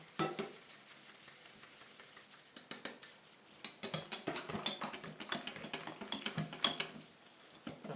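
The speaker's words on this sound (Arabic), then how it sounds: "نخلط هاد الطحين هذا مع هاد الخميره" Flour being mixed with yeast in a bowl for Moroccan sfenj dough, producing quick, close clicking and scraping strokes in a steady rhythm that pauses briefly and then resumes.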